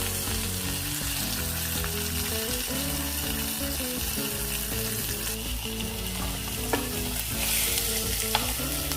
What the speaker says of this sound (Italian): La carne va rosolata su tutti i suoi lati.